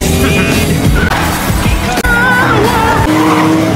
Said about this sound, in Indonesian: Sekarang Nash mau menguji Chi dalam membawa mobil.